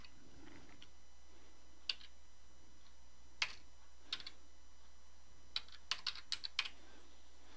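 Computer keyboard typing while entering data into accounting software: sparse, quiet individual key clicks in short bursts against near silence.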